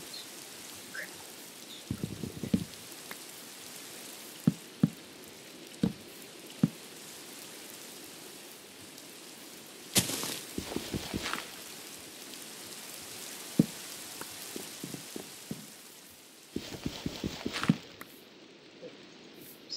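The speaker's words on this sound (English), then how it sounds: "Stupid rain" Steady rain patters throughout in a survival video game, a soft continuous hiss broken by scattered louder drops and occasional brief thumps, with a heavier burst near the middle and again toward the end.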